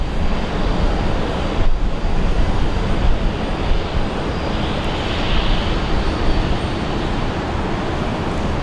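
A Qantas airliner takes off from runway 19 right at Brisbane International Airport during a severe storm, a broad, roaring jet rumble heard from a distance with a steady wash of noise that swells slightly.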